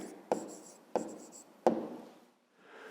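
A pen writes an answer on paper in three quick, close scratchy strokes, each a sharp onset that trails off, followed by a brief pause and a faint rustle.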